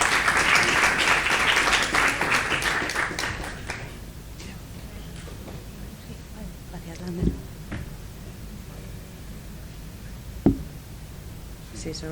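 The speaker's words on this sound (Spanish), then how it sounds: "Un aplauso para Ruth," Audience applause for speaker Ruth at a design assembly, a burst of clapping that fades after about four seconds, followed by quiet room tone with a couple of sharp knocks.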